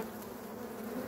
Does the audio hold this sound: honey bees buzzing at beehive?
yes